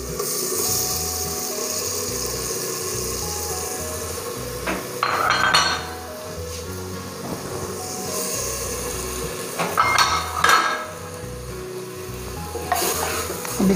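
Chicken is added to fried onions in a pot and stirred for a chicken makhni handiya, a low sizzle under repeated scraping and clanking of a spoon against the pot.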